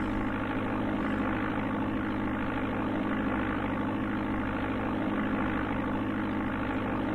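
Cessna engine in the Amiga game Flight Simulator II, a steady droning propeller hum that holds at an even, continuous level with a faint whine above it and no talking.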